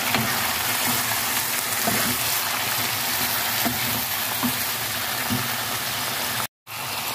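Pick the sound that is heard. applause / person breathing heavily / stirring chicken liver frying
stirring chicken liver frying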